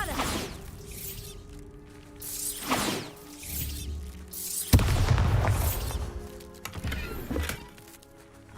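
Bombarda spell explosions in Hogwarts Legacy, several booming bursts with whooshing tails, spaced a second or two apart amid game effects.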